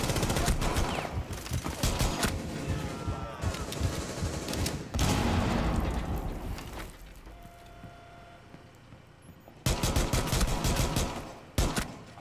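Gunfire in the video game Rainbow Six Siege, with bursts of rapid automatic shots and scattered single cracks separated by quieter gaps, fairly loud and close, while players talk over parts of it.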